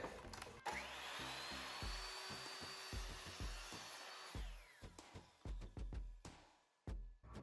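A wooden board for a window box is cut with a power saw, a loud sustained whine running for several seconds and then breaking into choppy, uneven bursts as the blade finishes through the wood.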